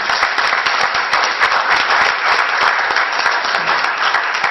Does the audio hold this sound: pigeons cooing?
no